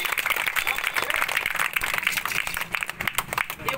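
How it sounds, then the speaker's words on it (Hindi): An audience at a children's magic show claps in a brisk, scattered patter, fairly close and moderately loud, with some voices mixed in underneath. "ताली मारी"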